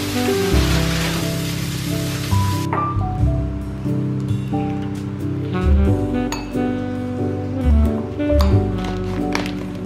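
Steady rain falls on a gloomy day, heard as a dense wash of spatter in the opening seconds. Clinks and knocks of household activity follow over a low continuous rumble.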